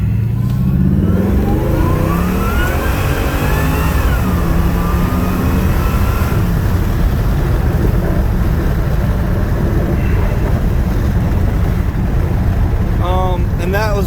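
A supercharged 1996 Impala engine revs hard during spirited driving, loud rising and falling engine pulls up close, with a voice talking over it at the start.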